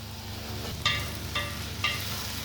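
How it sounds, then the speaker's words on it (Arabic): Fava beans and onions sauté together in a pan with a steady, soft sizzle. Three brief clicks of stirring break through it, and no one speaks. "هنسيبه يتشوح مع بعضه شويه بقى"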